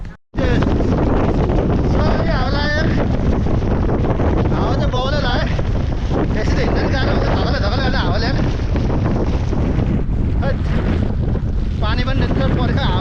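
Strong wind on a mountain trail along the Gurkha trail buffets the microphone in a loud, continuous roar, gusting steadily for the whole stretch with no pauses.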